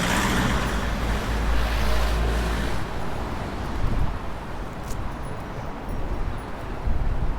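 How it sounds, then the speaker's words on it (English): Car traffic on Kent Street, Sydney, near a bridge approach: a continuous low rumble of passing vehicles with engine swells, heard from the roadside with no talking. "so you'll see a lot more car traffic around"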